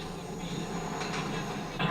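Steady rumble of a video game subway train running along its track in Watch Dogs: Bad Blood, with a rising rush of noise near the end; no voices.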